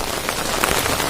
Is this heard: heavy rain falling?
yes